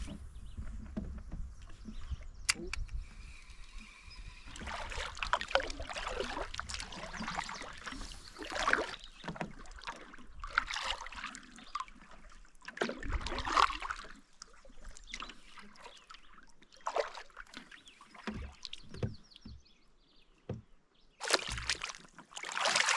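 Canoe trolled across a lake on a camping trip, with soft paddle strokes and water trickling and dripping in irregular bursts against quiet background, faint and close, no talk.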